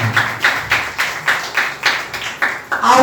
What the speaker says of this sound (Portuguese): Aplaudam ao Senhor Jesus.